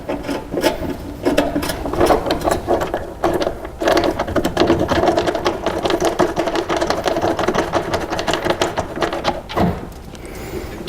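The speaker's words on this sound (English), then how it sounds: "it's always a good idea to chase the threads, chase the original threads in" A tap chasing the original threads in the fender of a 1966 Chevelle during hood hinge installation: a steady, close metallic ratcheting and grinding scrape that runs almost continuously with brief pauses.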